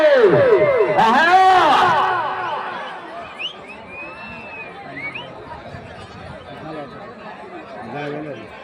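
Crowd noise at a bullock cart pulling contest in a village, with a loud burst of shouting and cheering at first that fades into a steady background hubbub of voices and chatter.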